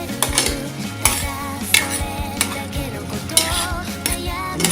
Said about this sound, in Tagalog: haluin lang natin dito sa ating gulay